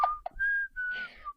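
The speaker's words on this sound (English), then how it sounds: "I can whistle." A person whistles a short melodic phrase alone, with sustained clear tones broken by brief pauses across the moment.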